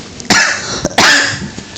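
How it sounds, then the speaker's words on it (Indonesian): Two or three sharp, close coughs from someone in a mosque congregation during a dawn sermon, bunched within a couple of seconds, with faint room murmur between them. "Nah, sampai batuk tuh."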